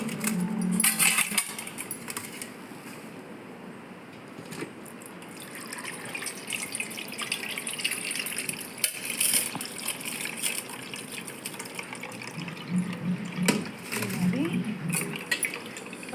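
Water that has been soaking in a vessel is poured through a strainer as part of a homemade remedy, making a steady wet trickling and splashing with a few stronger gushes near the end.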